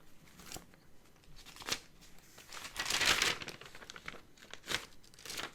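Paper note pages turned and shuffled by hand, a few crisp crinkling rustles with one louder flurry in the middle, close to the microphone and with no talking.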